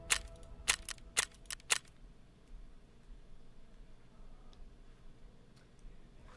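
Gunshots in the video game Escape from Tarkov, five sharp cracks in quick succession, then a few faint distant pops over quiet background noise.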